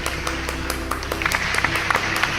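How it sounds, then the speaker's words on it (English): A school audience claps for parents and grandparents during a presentation, a steady scatter of hand claps, fairly faint and thin rather than a full roaring ovation. "I request all my Goenkans to join me and clap loudly for all the parents and grandparents and family members watching this presentation."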